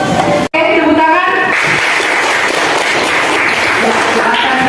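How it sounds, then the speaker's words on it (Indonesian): Students applaud in a classroom, a loud, dense burst of clapping that follows a brief cut and carries on steadily, with voices mixed in. "Tepuk tangan."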